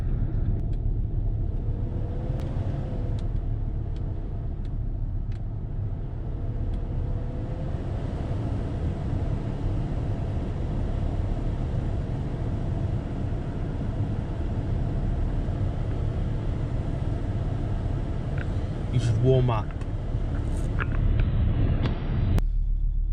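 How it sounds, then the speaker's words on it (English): A Volvo V70 XC70 engine from the 2000–2004 era idles in cold weather, a steady low rumble that holds throughout, with a few brief clicks near the end and a short spoken remark early on. "That's how this engine is in the cold."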